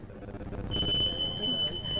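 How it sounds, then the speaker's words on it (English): A steady high electronic beep from a relay changeover timing mat at the 2009 RAK Half Marathon sounds for over a second amid busy crowd noise and voices. "the beep means that the time has been logged"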